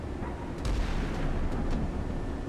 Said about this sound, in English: Okay, good. You're firing your gun.